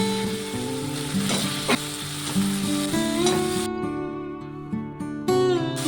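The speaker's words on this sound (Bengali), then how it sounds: "আলুটাকে দিয়ে একটু মশলার সাথে কষিয়ে নেব।" Potatoes sautéing in oil with spices, a loud, close, continuous sizzle and crackle with faint stirring, steady throughout and no one speaking.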